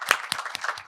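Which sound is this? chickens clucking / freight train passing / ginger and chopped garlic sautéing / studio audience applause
studio audience applause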